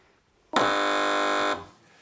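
A quiz show buzzer sounds once, a loud steady harsh tone held for about a second before cutting off, alone with no talk over it.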